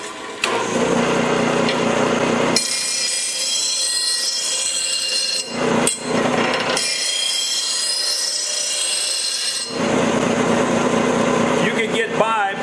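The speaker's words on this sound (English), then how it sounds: "it's kind of necessary to do a little bit of back grinding" Worn lawn tractor mower blades being back-ground on a shop grinder, a loud harsh whine that cuts in and out in several long bursts with brief pauses between passes.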